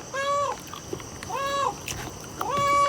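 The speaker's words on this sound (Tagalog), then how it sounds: "Narinig niyo yung pusa mga bi?" A cat meows three times at a slow, even pace, each call drawn out and tonal, set against steady outdoor background noise at a seaside camp.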